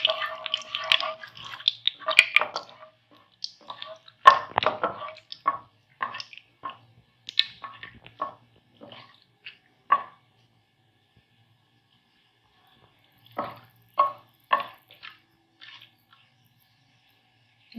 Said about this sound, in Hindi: इलायची को हमने अच्छा सा घी में कड़कड़ा लिया।